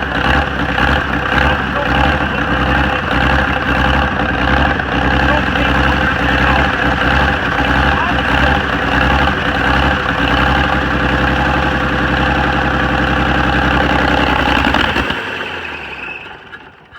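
Honda 70 motorcycle engine idling steadily and close by, a continuous even putter with a dense low rumble that holds for about fifteen seconds before cutting off and fading out.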